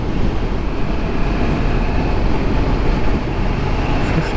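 A 2022 Yamaha MT-10 motorcycle is being ridden, giving a loud, steady, broadband roar of engine and wind noise with no clear gear changes or pauses.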